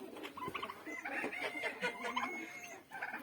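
Geese and turkeys in a poultry pen, one gander and two geese among them: a busy close-up mix of clucking, gobbling and honking calls overlapping continuously.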